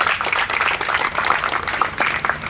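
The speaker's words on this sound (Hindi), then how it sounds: "जोरदार तालियां बताइए ये लोगों को।" An audience at a gathering against drugs claps in a dense, steady round of applause, loud and close, with many hands overlapping and no pauses.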